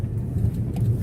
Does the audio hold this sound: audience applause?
no